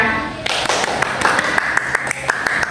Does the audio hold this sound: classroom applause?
yes